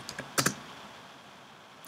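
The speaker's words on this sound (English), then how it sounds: "So go to your terminal and just type sudo" A short burst of computer keyboard typing at a terminal: a few quiet clicks, then two sharper keystrokes close together and one faint tap at the end, nearby in a quiet room.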